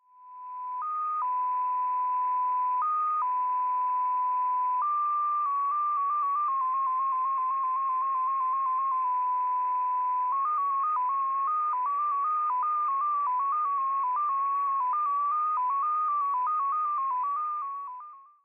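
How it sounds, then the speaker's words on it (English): Russian intelligence station XPA-2 out of Moscow transmits its custom 14-tone MFSK digital radio signal: a continuous stream of pure stepping tones, first a few long held pitches, then rapid warbling hops between close tones, steady and alone over faint radio hiss. "It utilizes a custom 14-tone MFSK system and sounds like this."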